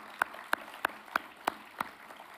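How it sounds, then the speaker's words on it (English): Six slow, evenly spaced hand claps ring out at a funeral service celebrating a woman's life, each sharp and distinct against a quiet room. "let's give them a big clap too"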